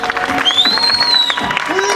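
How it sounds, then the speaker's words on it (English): Crowd at an outdoor Halloween magic show at Disneyland's Big Thunder Ranch claps and cheers loudly, with a sustained tone and voices over the applause. "And a big round of applause."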